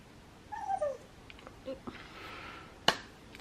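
A pet dog whimpers indoors at home, giving two short, high, falling whines close by, followed a moment later by a single sharp click.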